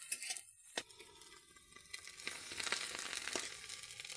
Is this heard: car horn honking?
no